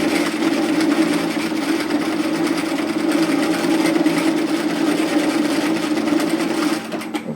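A sewing machine stitching fabric for a tiered dress, a loud steady close-up mechanical whir running continuously for several seconds before easing off at the very end.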